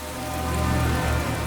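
Heavy rain pours down at a bus stand in a steady, dense hiss that stays loud and unbroken throughout, with no voices over it.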